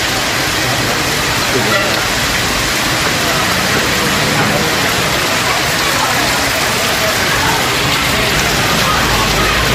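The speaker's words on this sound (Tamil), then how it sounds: "கனமழை பெய்ததால் சாலைகளில் தண்ணீர் தேங்கியது" Heavy rain pours down steadily on roads, a loud, dense, unbroken hiss with no break across the whole stretch.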